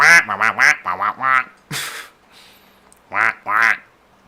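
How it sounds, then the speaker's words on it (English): Loud, close duck quacks in two quick bursts of repeated nasal calls, then a short gap and two more quacks, from a horse racing video game with no talk over them. "the duck sound is so weird, isn't it? So obnoxious"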